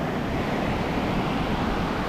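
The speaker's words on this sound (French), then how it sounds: "clairement la mer est quand même... il y a des bonnes vagues quoi" Strong waves breaking on a beach in southern Sri Lanka, a dense steady roar of surf heard close with no pauses across the short stretch.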